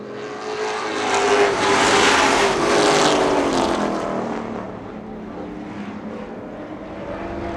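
Super Street race cars accelerating together after the green flag, a loud roaring engine swell that peaks and then fades into a steady, more distant drone.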